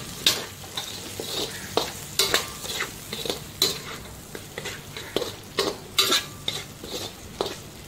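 Chicken gizzards frying in a pan as green chillies and salt go in, with a spoon repeatedly scraping and stirring over a steady close sizzle and clinks of utensil against metal.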